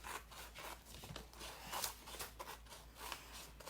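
Scissors snip and trim the uneven edges of a paper square for a squash book art project, producing soft, steady rustling cuts close by with no talk.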